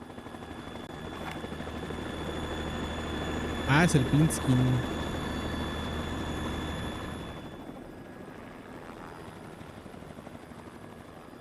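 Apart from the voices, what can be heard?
helicopter in Metal Gear Solid 2 video game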